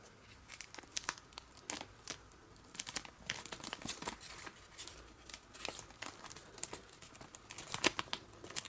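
Paper folded for an origami cross bookmark, with dense close crinkling and rustling and scattered sharp crackles throughout, quiet and steady.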